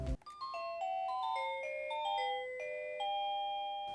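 A bright smart WiFi doorbell plays a short stepped melody of clear chiming tones, like a polyphonic ringtone, alone and close.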